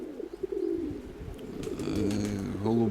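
Pigeons, a pair of hens, coo close by in low rolling calls that grow fuller toward the end, with a faint murmur of background noise.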